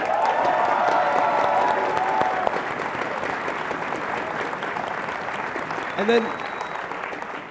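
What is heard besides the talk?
crowd applause at an IPL4 tournament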